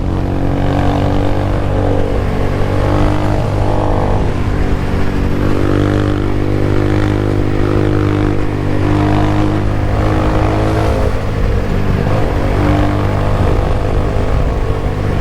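A repaired motorcycle engine runs steadily at idle while it is adjusted, a loud, close, continuous droning hum with a slight rise and fall and no talking.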